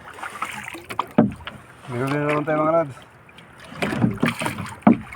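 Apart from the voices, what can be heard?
paddling a small wooden boat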